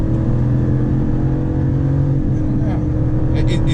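A 2019 RAM 1500 pickup with a tuning module rolling along at about 30 mph, a loud steady low engine and road drone heard from inside the cab, with a brief higher chirp near the end.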